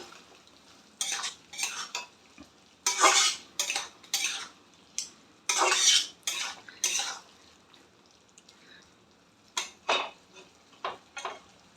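Egg roll filling with chilli sauce and tomato sauce stirred in a frying pan: a spatula scrapes and clatters in irregular bursts of strokes against a faint sizzle, close and alone.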